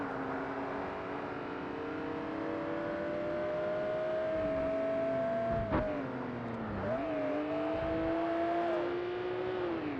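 A Porsche Boxster race car in Forza Motorsport drones at high revs, its engine pitch climbing steadily, dipping sharply at a gear change, then rising again, loud and close with no talk.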